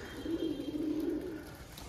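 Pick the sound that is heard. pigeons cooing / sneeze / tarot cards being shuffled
pigeons cooing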